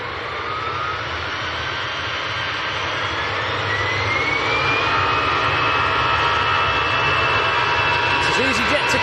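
An EasyJet jet airliner roars at Manchester Airport, a loud sustained engine whine rising slowly in pitch as it passes fairly close, with faint radio chatter underneath.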